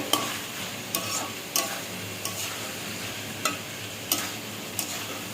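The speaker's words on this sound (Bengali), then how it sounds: "এবার আমি নাড়াচাড়া করে এটা নাড়িয়ে নেব।" A spoon stirs Malabar spinach (pui shak) curry in a pan, producing a soft continuous sizzle with several sharp scraping clicks spaced irregularly, close and fairly quiet, with no voices.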